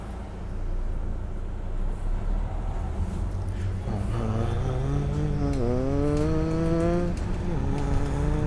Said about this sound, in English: Honestly, it just sounds like a gas bus